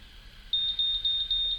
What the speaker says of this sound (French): et voilà, et les 3 bips.